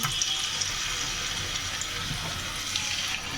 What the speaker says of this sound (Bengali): সবগুলি মাংস আমি ভেজে নেব।